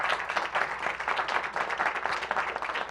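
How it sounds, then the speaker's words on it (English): Steady applause fills the room at a city council proclamation, many hands clapping together in a dense, even patter that carries on for the whole stretch. "That deserves a round of applause."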